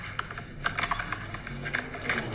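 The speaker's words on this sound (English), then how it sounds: "I'm really shuffling hard." Playing cards are shuffled hard and fast in a quiet indoor room, giving a run of soft riffling taps and flutters at close range, with no one speaking.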